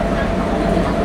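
A Kolkata metro train on the Howrah line runs with a dense, continuous rumble and roar, heard from inside the carriage with a voice over it.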